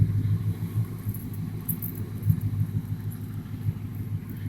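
A deep, steady engine rumble from a 2000 Ford F350 pickup with a 5.4 engine and muffler idles nearby with a low, pulsing throb and no voices.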